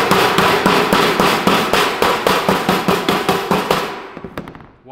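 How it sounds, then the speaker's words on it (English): The edge of a hammer strikes a sheet metal duct transition in a rapid, even series of loud, ringing metallic bangs, about a dozen close hits, before the pounding stops and the last rings fade. "You can turn your hammer to the side and hit it in the rest of the way there."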